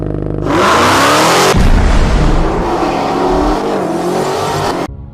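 A Dodge Demon's supercharged 6.2-liter Hemi V8 blasts into a loud rev, then holds a harsh, roaring growl at close range for several seconds before cutting off abruptly.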